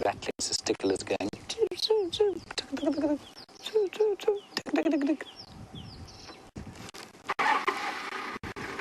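Rattling cisticolas call on a late afternoon in the South African Lowveld: bursts of repeated chattering, rattling notes at moderate distance, mixed with sharp clicks and knocks and a low background hum.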